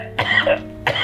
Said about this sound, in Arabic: مخرج قال 3 كحات تكحيت 17 كحة